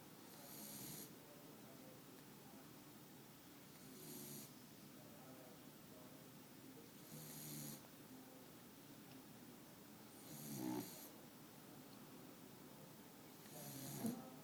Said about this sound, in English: Al, the snoring beagle.